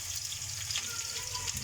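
Onions sautéing in a pan for a kari chicken dish give a steady, close sizzle and crackle with a soft low hum beneath, with no talking over it.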